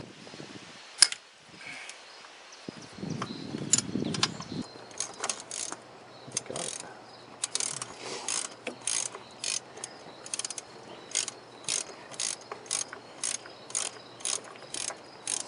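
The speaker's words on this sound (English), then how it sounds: "So in order to get to this one, I could either use a wrench." A ratcheting wrench works a fuel injector line bolt on a Toyota 22RE engine, giving a steady series of crisp, evenly spaced metallic clicks that begins after a brief rustle and continues close up with no talking.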